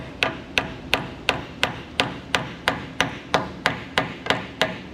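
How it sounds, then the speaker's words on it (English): Repeated sharp metallic hammer blows strike a torsion bar key insert on a 4x4 truck, about a dozen evenly spaced hits in a steady rhythm, close and clear with no talk. "Where's my hammer? It's fine. Here. Everything's a hammer."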